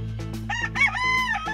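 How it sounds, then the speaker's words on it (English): A rooster crows loudly and close by, a drawn-out cock-a-doodle-doo with short clucking notes mixed in, over a steady low hum. "I love chickens."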